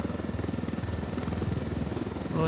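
In Ghost Recon Wildlands, a helicopter flies just before landing by water, its rotor beating in a rapid steady pulse over engine hum, loud and close, with a faint voice near the end.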